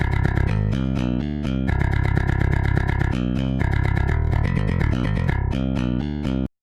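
Direct-input bass guitar from a Submission Audio DjinnBass sample library, a dense, loud distorted riff of rapid chugging notes playing continuously before stopping abruptly.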